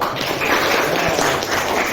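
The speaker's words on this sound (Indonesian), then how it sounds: "Tepuk tangan untuk seluruh kelompok" Students in a classroom applaud all the groups that have just presented, a steady, dense patter of clapping filling the full two seconds with no talk over it.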